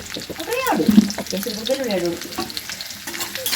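Fish frying in hot oil in a home kitchen, a steady crackling sizzle with stirring sounds, partly covered by a voice talking over it.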